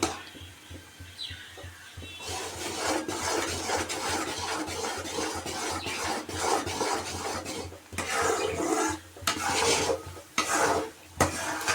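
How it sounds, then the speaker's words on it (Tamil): A spatula scrapes and stirs a thick Mysore pak mixture of gram flour, ghee and sugar in a heavy-bottomed pan, a steady continuous rasping with clattering metal-on-pan strokes, close and fairly loud, with no talking. "இந்த மாதிரி கை விடாமல் கிண்டிகிட்டே இருக்கணும்"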